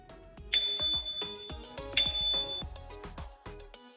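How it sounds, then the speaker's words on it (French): A bicycle bell on the front of the handlebars is rung twice with its thumb lever. Each ring gives a bright ding over a steady run of metallic clicks and clinks. "La sonnette se trouve sur l'avant du guidon et s'actionne avec la manette."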